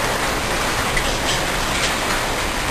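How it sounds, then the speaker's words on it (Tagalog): Hail pours down in Qatar, a dense, steady hiss of ice pellets striking surfaces, loud and continuous with no pauses. "Ayun po sila, umuulan ng yelo."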